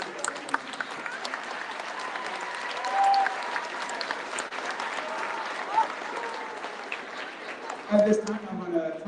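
A crowd at a middle school awards celebration gives a round of applause for the 8th grade boys basketball team, steady moderate clapping with voices talking through it and a brief louder burst near the end.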